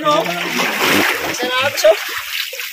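Water gushes and splashes through a small irrigation tunnel, a steady wet rush with bright spattering bursts, heard up close while a voice and other speech come in faintly.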